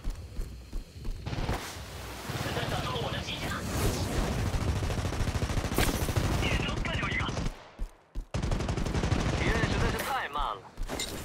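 Video game gunfire crackles in rapid automatic bursts, loud and close, with brief pauses and a sudden break near the end, mixed with game sound effects.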